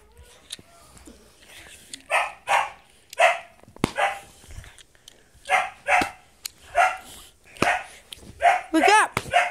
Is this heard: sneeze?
no